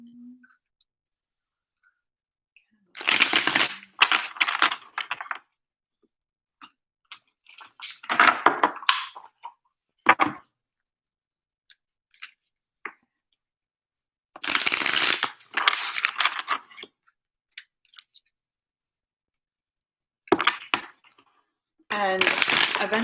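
Tarot cards are shuffled in several separate bursts of rapid riffling and flicking, close and crisp, with silent pauses between them.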